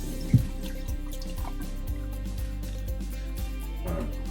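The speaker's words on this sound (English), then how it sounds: "now we're gonna rinse our beans" Soaked black-eyed peas are rinsed under running water in a kitchen, a steady close wash of flowing water broken by a few sharper splashes and drips.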